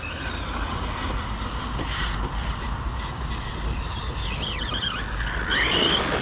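A ZD Racing DBX07 RC car with its front wheels spinning under throttle, a loud, continuous electric motor whine with rising pitch sweeps near the end, over gritty rumbling.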